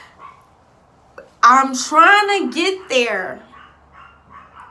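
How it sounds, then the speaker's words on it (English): Dogs barking and whining in the background of a home while someone talks, with a short burst of yelps and bow-wows rising over her voice around the middle. "Sorry for the dogs."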